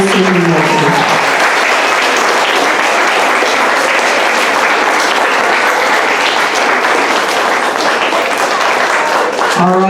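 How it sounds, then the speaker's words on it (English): Loud, dense applause from a large crowd fills the whole stretch, with a voice briefly audible at the start and end. "Big round of applause for problem solving and responsible decision making."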